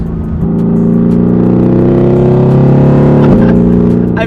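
A Mercedes-AMG GT R engine revs loudly and close, its steady roaring tone rising in pitch before dropping off near the end.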